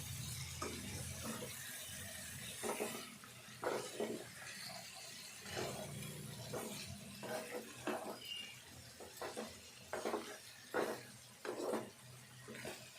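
Telangana chicken curry with two small tomatoes stirred in a pot, giving repeated wet scraping and sloshing strokes at an uneven rhythm, close and fairly soft.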